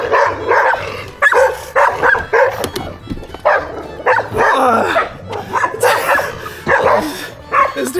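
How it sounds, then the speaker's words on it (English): Two dogs bark repeatedly at a cyclist stopped on an uphill road in Kentucky, with loud close barks and yips in quick irregular bursts and no voice over them. "I stopped next to 2 barking dogs"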